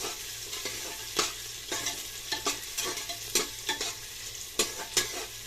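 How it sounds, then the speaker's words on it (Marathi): Onion frying in hot oil in a pan for green-chilli chicken rassa, a soft steady sizzle broken by repeated scraping stirs of a spatula at an uneven rhythm, close and fairly quiet. "इथं मी कांदा टाकणार आहे कांदा चांगला परतून द्यायचा आपल्याला"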